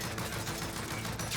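Rapid video game gunfire from an Odin rifle, a dense, continuous burst of shots with no pauses, steady and loud throughout the short stretch.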